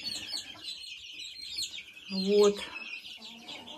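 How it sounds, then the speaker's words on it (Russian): Young chicks chirp and cluck in a busy, high-pitched chorus while pecking at compound feed pellets, and someone says a single short word in the middle. "Комбикорм кушают мои цыплята вот такой гранулы."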